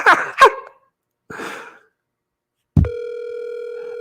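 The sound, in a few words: telephone ringing tone on outgoing call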